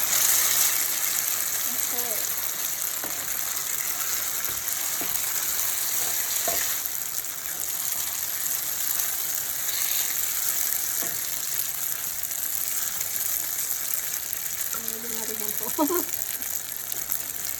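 Two handfuls of noodles hit hot oil and fry with a steady, loud broadband sizzle that lasts throughout, with occasional clinks from the pan and music playing in the background.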